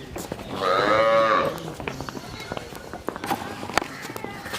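A cow at a livestock sale in Sialkot lets out one loud, drawn-out moo near the start, followed by scattered hoof thuds and clattering knocks.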